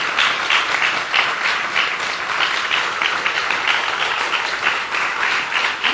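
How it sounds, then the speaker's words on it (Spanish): A church congregation applauds steadily for several seconds, a dense, even wash of many hands clapping that fills the room from start to finish with no pause. "dele un aplauso al Señor Jesucristo"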